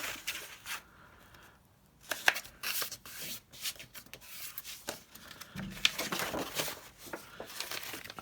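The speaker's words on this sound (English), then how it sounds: "So let me fold this in half." A sheet of paper is folded in half for a handmade scrap notebook, heard as close, quiet crinkling, rustling and sharp creasing rubs in uneven bursts, without speech.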